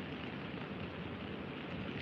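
Steady rain coming down outdoors during the Japanese rainy season in Tokyo, a dense, even hiss of drops that holds at a constant level throughout with no voices.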